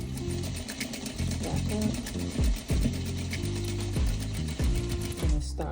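A sewing machine runs in loud bursts of rapid stitching while sewing the lining of a small zippered pouch. It stops and starts between runs, and a voice talks over it.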